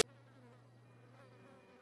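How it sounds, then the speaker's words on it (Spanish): Flies buzz faintly in a GTA roleplay scene, a thin, steady insect drone with a low hum beneath it, heard alone after a brief click. "Escucho unas moscas."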